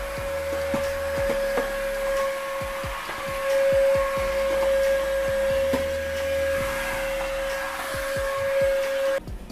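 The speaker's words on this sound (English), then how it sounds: "So ito, magtuloy na natin ang vacuum para makapagpahinga na." Household vacuum cleaner running steadily across a dusty floor, a sustained motor whine with a strong constant tone, punctuated by bumps and knocks as it moves, continuous for about nine seconds before cutting off.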